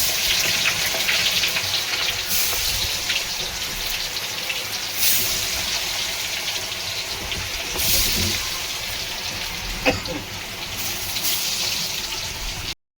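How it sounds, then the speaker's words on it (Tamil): Steady loud sizzling and crackling of fish frying in hot oil, continuous throughout with occasional sharper pops. "அதை பொரிக்கிறோம், பொரிச்சு எடுத்துக்கிறோம்."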